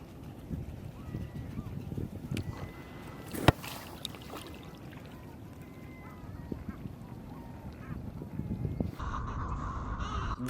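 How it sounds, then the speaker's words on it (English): Crows and other birds caw and honk around an abandoned island in the Firth of Forth near Inchmickery, repeated calls heard from a kayak on the water over a low, breezy background. "We got a nice warm welcome from the curious birds who called the island home."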